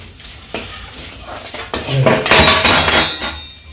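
Curry leaves frying in a pan, a loud close sizzle that swells partway through, mixed with stirring scrapes and metal clinks of a utensil against the pan.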